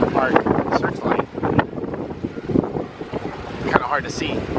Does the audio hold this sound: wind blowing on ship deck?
yes